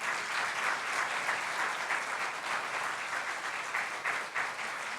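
A church congregation applauds during a sermon, a dense, steady wash of many hands clapping at close range that holds at an even level throughout, with no voices rising above it.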